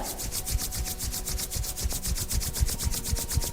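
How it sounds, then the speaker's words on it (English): Two palms rubbing briskly together in steady, rhythmic back-and-forth strokes, a close, soft swishing friction sound repeating alone without talk. "just finally just rub the hands together"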